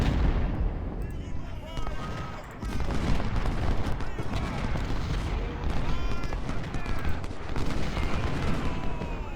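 Continuous artillery and rifle fire from the Civil War strategy game Ultimate General: Civil War, a dense, steady roar of overlapping booms and crackling shots, with a voice talking over it.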